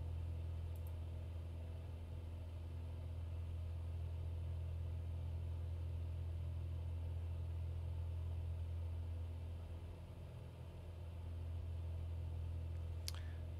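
A Piper Cherokee piston engine in the Prepar3D flight simulator drones steadily at cruise power, a constant low hum that dips slightly near the end with a faint click, and no voices.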